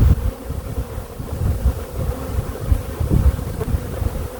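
Honeybees scooped into a jar for a varroa mite wash give off a dense, continuous low buzzing hum, close and steady, with no voices.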